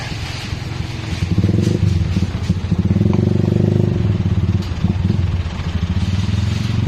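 Toyota Hilux with a full exhaust and resonator on a test drive, a loud, close, rumbling engine with a steady, slightly rising drone and throaty crackle.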